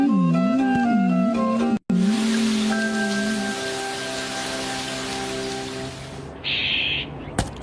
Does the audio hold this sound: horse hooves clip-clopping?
no